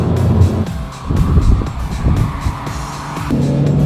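A small economy car with a dual-clutch transmission accelerates hard and shifts up. The engine drone is loud and close inside the cabin, and it dips briefly at each quick gear change.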